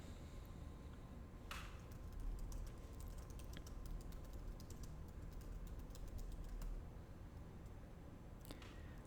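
Someone types code on a computer keyboard in a steady, dense patter of light key clicks, with a few louder strikes standing out, close and alone.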